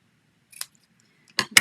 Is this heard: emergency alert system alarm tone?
no